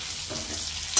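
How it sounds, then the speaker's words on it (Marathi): Stuffed brinjal sautéing in a pan, a steady close hiss of frying with soft stirring movements and a small clatter at the end. "हे असे चांगल्या प्रकारे वांग्याला असं परतून घ्यायचं आणि नंतर गॅस कमी करायचा"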